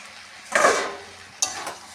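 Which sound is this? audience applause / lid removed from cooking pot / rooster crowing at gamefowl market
lid removed from cooking pot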